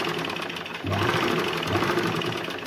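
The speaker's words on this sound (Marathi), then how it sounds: "मी इथे आता प्रेस शिलाई टाकून घेते" Sewing machine running a steady top-stitch along a blouse seam, a continuous close whirring hum with rapid needle chatter that grows slightly louder partway through.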